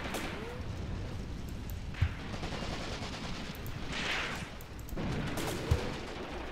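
Tank gunfire in a WWII video game, with StuG assault guns defending on the Mius Front. Two dull, heavy booms land a few seconds apart over a constant rumbling battle din.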